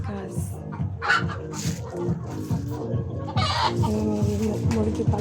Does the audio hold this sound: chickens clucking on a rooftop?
yes